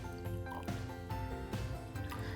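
Cold water pours into tulip vases in a few short bursts, soft splashing and gurgling with brief pauses between fills, close and fairly quiet with no talk.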